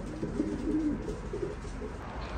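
Racing pigeons cooing inside a loft, several soft, throaty coos repeating close by over a low steady background hum, no voices.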